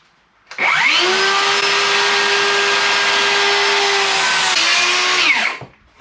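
A power saw cuts a wooden ramp piece clamped in an old Black & Decker Workmate, winding up sharply, holding a loud steady whine for about five seconds, then spinning down.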